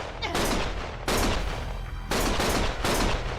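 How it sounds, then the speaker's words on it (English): Gunfire in the video game Lost Judgment: three loud, dense bursts of rapid shots follow one another closely, each cutting in sharply. "Stop shooting!"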